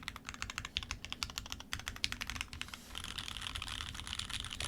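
Typing on a Ramaworks Thermal keyboard fitted with worn-in Cherry Hyperglide switches and GMK Striker keycaps: quick, close clacks in uneven bursts, then a denser steady run of keystrokes, no talking.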